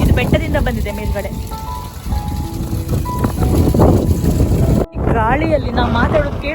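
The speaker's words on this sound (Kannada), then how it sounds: "ಗಾಳಿಯಲ್ಲಿ ನಾವು ಮಾತಾಡೋದು ಕೇಳಿಸಲ್ಲ ಅನ್ಸುತ್ತೆ" Strong wind blows across the open beach at Nadibhag, Ankola, and roars steadily against the microphone. People talk through it up close and are partly drowned out.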